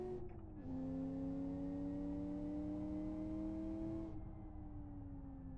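A 3.5 litre V8 car engine in the racing game Live for Speed revs and holds a steady tone as it accelerates, then drops back to a lower hum. The engine sound is moderately loud and unaccompanied by talk.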